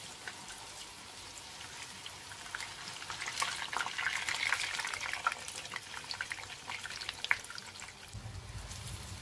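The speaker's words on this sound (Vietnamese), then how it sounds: "Cái phần tàu hũ này mình chiên mỗi mặt khoảng là 3 phút là nó vàng rồi." Tofu pieces frying in hot oil in a pan for a rice vermicelli stir-fry dish, a steady crackling sizzle that swells in the middle with scattered sharp pops, close and continuous with no talk.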